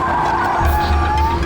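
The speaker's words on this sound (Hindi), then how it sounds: "एक मिनट, गाड़ी रोको।" A car skids to a sudden stop, its tires squealing loudly and close by for a second and a half amid engine noise, with no one speaking.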